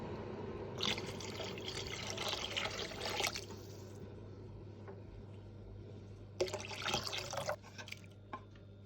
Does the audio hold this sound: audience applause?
no